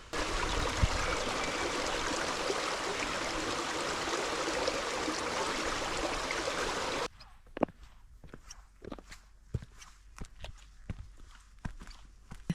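A stream flowing near a waterfall in Springbrook National Park rushes loudly and evenly for about seven seconds, then cuts out and gives way to a quiet run of crunching footsteps on a trail.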